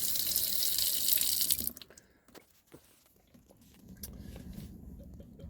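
Water gushes from a camper tap for about two seconds, then stops abruptly, leaving quiet clicks and a soft low hum from the water pump as it cuts back in.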